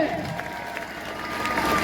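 Audience applause at a student movement rally in Suratgarh, Rajasthan: steady, dense crowd clapping with cheering, held at an even level throughout, with no clear speech over it.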